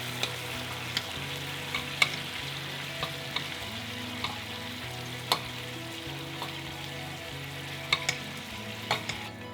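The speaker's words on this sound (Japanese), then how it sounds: "そしてそこに先ほど炒めておいたピーマンの肉詰めを戻してソースを煮絡めます。" Stuffed green peppers simmer in an olive oil sauce in a pan, giving a steady soft sizzle and bubbling with occasional light clicks of a utensil stirring, no voices present.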